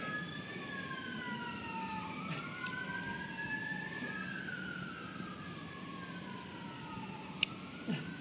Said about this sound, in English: oh, these sirens are dreadful